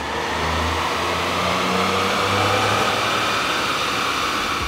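A 2011 Ford F-150 with the 3.5-liter EcoBoost engine, running a 93-octane tune on a chassis dyno, roars at steady high revs with a dense, loud, continuous drone and deep low rumble throughout, no voices.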